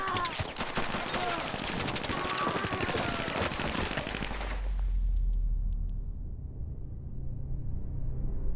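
Gunfire from an action movie scene: a dense, sustained burst of rapid shots fills the first four seconds, then gives way to a deep, low rumble that carries on to the end.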